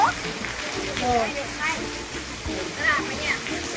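Heavy rain with hail pelting down in a village, a steady broad wash of falling water and drops throughout, with people talking over it.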